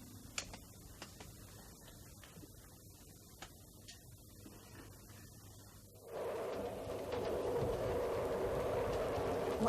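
A train rolls along the rails with a low, steady rumble that grows noticeably louder and fuller partway through, with occasional faint clicks.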